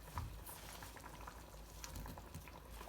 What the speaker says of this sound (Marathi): आता मसाल्याला चांगली उकळी आलेली आहे